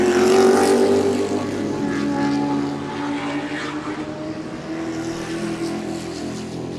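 Race cars at Sebring, including Dodge Vipers, pass on track: a loud, close engine roar with rising and falling tones swells as cars go by, then fades to a steady drone, with no talk.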